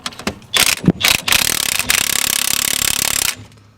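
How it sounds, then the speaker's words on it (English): Wrench working a large bolt loose on a Volvo 960 during a coilover install: several sharp metallic clicks and scrapes, then a steady rapid ratcheting rattle for about two seconds that stops abruptly, close and loud. "let's put our wrench on here and try to get big heft bolt off"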